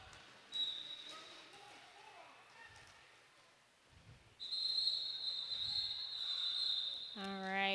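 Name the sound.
referee whistle at a hockey game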